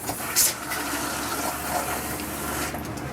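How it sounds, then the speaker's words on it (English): The fresh water pump on a 2015 Shasta Airflyte camper switches on with a short click, then runs as a steady rushing, hissing water noise that fills the whole stretch at an even level. "This is going to turn on our water pump."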